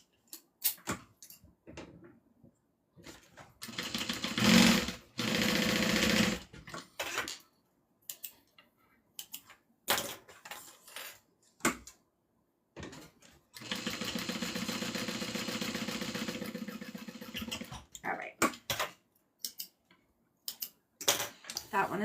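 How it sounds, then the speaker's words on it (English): A sewing machine stitches a seam along a marked seam allowance on a Tiffany Dome satchel, running in two long, loud bursts of steady whirring. Short clicks, handling noises and a talking voice fill the gaps between the runs. "now I'm just going to sew down where I drew my seam allowance"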